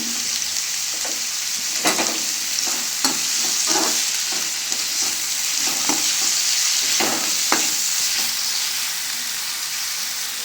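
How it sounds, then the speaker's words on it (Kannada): Onions and green chillies frying in a pan give a steady, close sizzle with scattered stirring scrapes and clicks throughout, no voices. "ಈ ಥರ ಈರುಳ್ಳಿ ಫ್ರೈ ಆಗಬೇಕು"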